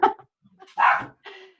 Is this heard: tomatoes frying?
no